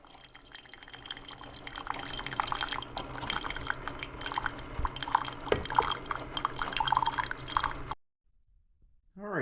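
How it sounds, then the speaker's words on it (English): A Keurig K-Express coffee maker runs a plain water cleaning cycle, with steady trickling and dripping of water into a cup over a low mechanical hum, continuous for several seconds before stopping abruptly. "what I'm going to do is run a couple cycles of water through it. Just cleans out the inside of the unit"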